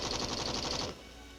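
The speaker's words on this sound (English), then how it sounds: "it has developed a new lighter-weight general-purpose machine gun, which is more effective than the light machine gun it is designed to replace" A lighter-weight general-purpose machine gun fires a rapid, fast-paced burst lasting under a second, cutting off abruptly into a quieter tail.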